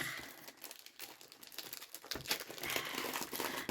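A plain paper pouch with a textured finish crinkles and rustles continuously as it is handled and torn open, close and fairly quiet, with sharper crackles toward the end.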